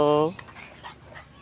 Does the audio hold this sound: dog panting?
yes